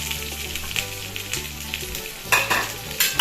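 Sliced onion sautés in a hot pan with dried red chilies, a steady sizzle broken by several scraping stirs of a utensil, close and fairly loud with no voices.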